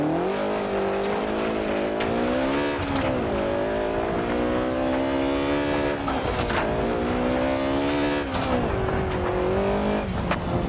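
A BMW in a PS4 racing game, its engine note rising and falling through gear shifts in a continuous loud drone with brief tire squeals.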